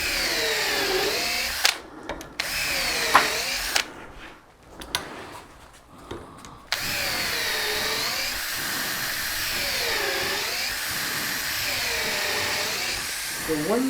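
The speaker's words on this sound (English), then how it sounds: "we pre-drill for it, so we don't split, we don't break the screw off" Power drill pre-drilling screw holes in oak while a door is hung: a steady whirring drone that rises and falls in pitch for most of the time, broken by a few short pauses, close and fairly loud.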